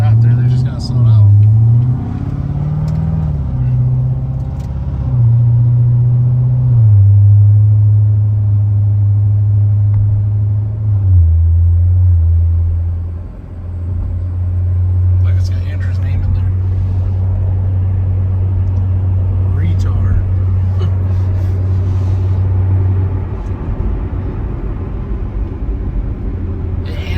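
A 750 rwhp Corvette C7 Z06 with a BTR LT4 camshaft rumbles low and loud, revving up and settling into a long choppy idle, while people talk nearby.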